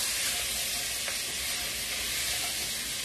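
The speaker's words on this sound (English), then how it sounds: "Now I got this flake of hot pepper I want to put" Hot pepper flakes sizzle in a frying pan, producing a continuous, loud, dense hiss with faint clicks and no talking.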